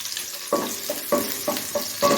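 Garlic sautés in a hot pan for chicken manchurian, giving a steady close sizzle broken by several rhythmic scraping stirs of a utensil against the pan.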